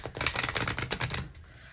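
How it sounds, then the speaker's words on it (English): Tarot cards are shuffled and cut, a rapid run of crisp, close flicking and riffling clicks for about a second before it settles into quiet. "We'll just go ahead and cut these cards."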